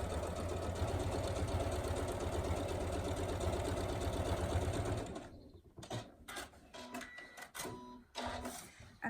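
Sewing machine running steadily, stitching a vinyl tool wrap pocket on a lengthened stitch over bulky middle trim, a continuous loud whirring for about five seconds before stopping, followed by faint handling clatter.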